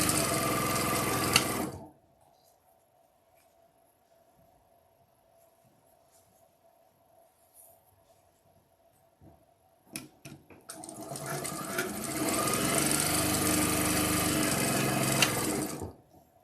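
A sewing machine pieces quilt units in two loud, steady bursts of stitching, separated by a long near-silent pause broken by a few faint clicks and handling noises.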